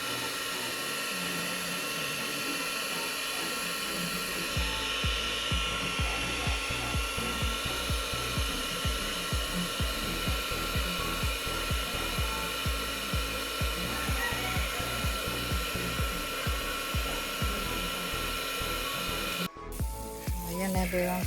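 A blower runs outdoors in a home garden with roses in the Philippines, giving a loud, steady, continuous drone with a fine rattling texture that holds for about twenty seconds before a brief break near the end.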